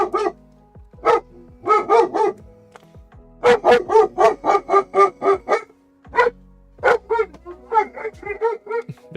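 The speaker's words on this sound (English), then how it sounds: "Oh, Nova sees a doggy." A pet dog barks in repeated clustered bursts, loud and close, in a room where someone sands down a mechanical keyboard base, with short pauses between volleys.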